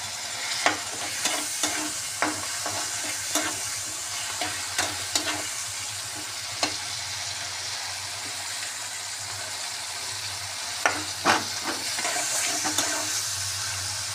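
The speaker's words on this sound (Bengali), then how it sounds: "এবার ভাজা হয়ে যাচ্ছে" Steady sizzling of tomato frying in a pan, with a series of sharp scraping clicks from stirring scattered throughout; no talking.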